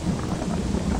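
Thunder rumbles in the Gothic 2 video game, a loud, continuous low roll with rain hiss layered over it, steady across the whole moment with no talking.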